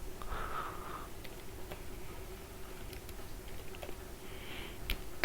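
Commands are typed on a computer keyboard, with sparse, faint keystroke clicks scattered over steady background hiss.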